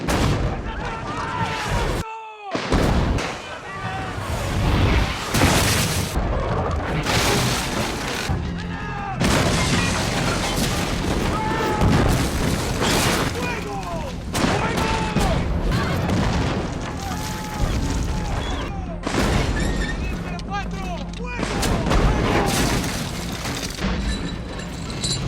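Artillery shelling of the Alamo, with heavy booms and cannon blasts repeating steadily and loudly through a dense, chaotic battle din, while voices are also present.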